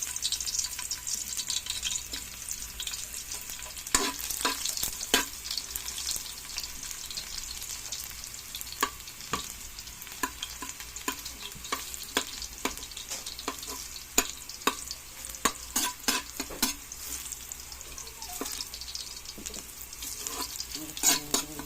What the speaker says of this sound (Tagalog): Init na yung mantika. Higisa natin guys.